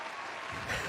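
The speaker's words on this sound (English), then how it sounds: "Got the applause for you." Canned applause plays to welcome a guest on a live stream Q&A. It is a short, faint burst of clapping that swells slightly toward the end.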